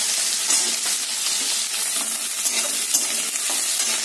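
Chopped vegetables fry with black cumin and cumin seeds in a hot pan, a loud continuous sizzle with clinks and scrapes from stirring throughout, close up and without voices.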